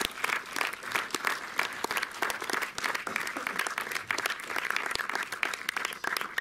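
Audience applauding film director Jerzy Skolimowski at a cinema talk, a steady patter of many hands clapping, moderately distant and even, without talk over it.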